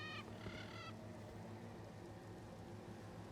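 A bird calls in Elden Ring, a short pair of honking, goose-like cries near the start over a low, steady game ambience.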